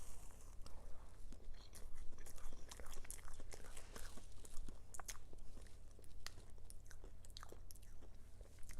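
Soft, close chewing and biting on Hot Tamales flavored Peeps marshmallow candy, quiet wet crunches repeating irregularly over several seconds with no talking.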